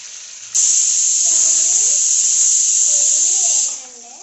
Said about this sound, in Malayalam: ചിക്കൻ ഇട്ടിട്ടുണ്ട് എണ്ണയിലേക്ക്.